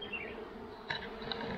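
A honeybee buzzing close by at a beehive during colony work, a steady insect drone with a few brief louder passes over low background noise.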